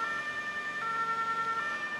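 A steady emergency vehicle siren in the game Notruf 112 wails continuously, its pitch wavering slightly, with a faint road-noise rumble underneath.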